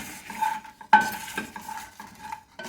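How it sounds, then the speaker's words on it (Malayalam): Coriander and other ground spices dry-roast on a low flame while a metal spoon stirs and scrapes the pan, giving a close series of irregular clinks and scrapes with a faint sizzle. "പൊടികൾ ചേർത്ത് കഴിഞ്ഞാൽ പിന്നെ ലോ ഫ്ലെയിമിൽ 1 മിനിറ്റ് ഒന്ന് ഡ്രൈ റോസ്റ്റ് ചെയ്താൽ മതി"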